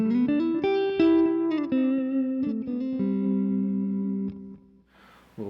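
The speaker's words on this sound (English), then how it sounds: "there's a little bit of reverb on the amplifier, and I just kicked in the TC Electronic Flashback 2" A clean electric guitar plays sustained notes and chords through an amplifier with reverb and a TC Electronic Flashback 2 delay pedal, each ringing out with echoing repeats and a reverb tail before fading to quiet.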